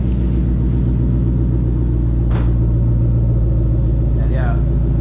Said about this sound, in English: The GT500 exhaust is awesome.